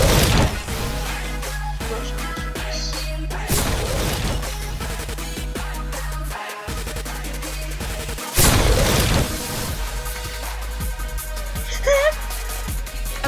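Edited-in explosion and firework sound effects: loud booms and crackling bursts repeat over a constant heavy rumble, with brief cut-outs between blasts.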